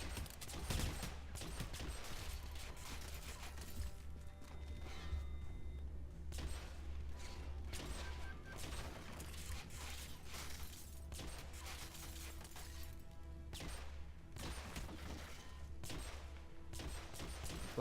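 Gunfire from the video game Hitman Absolution, rapid bursts of shots and booms crackling almost continuously through a busy, quiet game mix with no talk.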